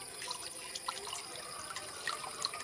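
Pure coconut oil is poured into a hot pan on the stove to make a homemade hair oil. A faint, thin trickle runs throughout with a few small drips and splashes, and no one talks.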